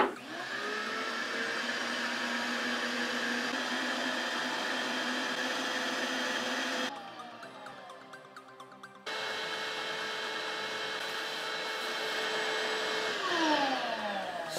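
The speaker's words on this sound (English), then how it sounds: "So that means I need to get my bandsaw out" A bandsaw runs steadily while cutting wood, with a loud continuous motor whine lasting throughout and a brief dip in pitch partway through.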